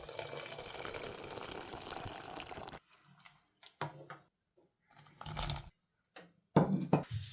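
Hot water pours into a pot of bean soup as a continuous close rush of liquid, then stops; afterward come short intermittent splashes and clatters with silent gaps between them.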